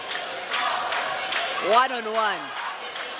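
At a volleyball semifinal, a crowd cheers and shouts in steady pulsing waves, with a commentator's voice rising briefly over the noise midway.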